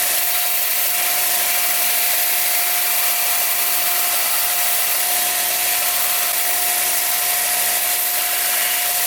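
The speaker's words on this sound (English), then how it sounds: "Here I'm just gonna take this over to the belt sander, and I'm just gonna sand the end of the filter." A belt sander grinding the end of a 4L80E transmission filter, a steady loud continuous whine and hiss with a constant tone, running without pause and without any voice.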